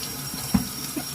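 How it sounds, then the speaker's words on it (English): Tap water runs into a kitchen sink while vegetables, tomatillos among them, are rinsed under it, a steady low wash of flow with a couple of soft splashy bumps. "just going to rinse off all of our veggies"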